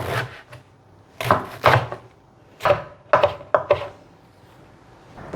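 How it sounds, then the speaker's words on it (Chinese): A knife chopping enoki mushrooms on a board, in short bursts of quick, crisp close strokes separated by brief pauses, with no speech. "把金针菇切碎"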